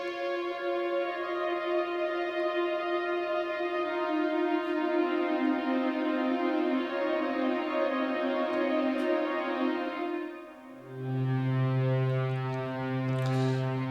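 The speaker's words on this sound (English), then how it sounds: "we are droning the synthesizer a lot of reverb and we push it really in the background" Synthesizer pad holding a sustained chord drone drenched in heavy reverb, mixed far back; the thick layered tones swell steadily, then shift to a new chord with a deeper low note near the end.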